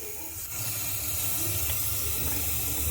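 Water streams steadily from a newly installed kitchen faucet into a sink, a constant close hiss and rush with no pauses.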